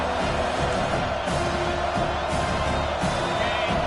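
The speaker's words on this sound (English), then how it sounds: "Here comes this home crowd as the defense tries to get off the field on 3rd down." A home crowd at a football game on third down fills the air with a steady, dense roar of cheering and noise, loud and continuous throughout.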